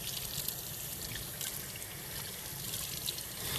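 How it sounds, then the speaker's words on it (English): Running tap water splashes over hands as soap is rinsed off, a steady, close, fairly quiet wash of water with no talking. "And now I'm going to rinse it off."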